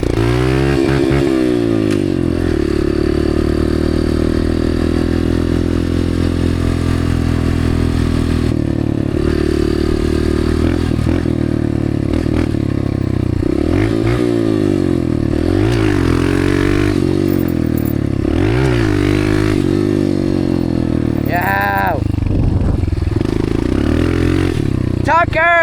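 Dirt bike engine revving hard on a dirt track, a loud, close, continuous roar rising and falling with throttle changes, with rattling and scraping mixed in and voices talking over it.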